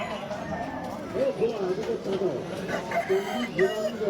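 Chicken at a busy village livestock market, clucking and crowing calls rising over the crowd with people talking throughout.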